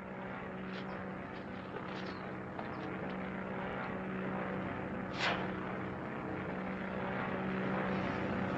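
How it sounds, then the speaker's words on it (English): A propeller airplane flies overhead in a 1943 serial, a steady droning engine hum holding throughout at moderate distance, with a brief louder swell midway. "The plane. Get out there."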